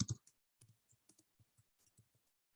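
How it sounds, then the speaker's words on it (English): Sparse keystrokes on a computer keyboard during an online computing lesson, a dozen or so separate clicks in an uneven rhythm, close and fairly quiet, with no talking. "I'm typing a question there."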